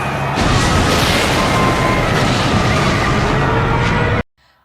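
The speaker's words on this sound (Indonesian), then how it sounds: "Tiba-tiba saja bom meledak." A bomb blast in a film scene erupts into a loud, sustained roar of explosion and crashing debris lasting several seconds, then cuts abruptly to near silence.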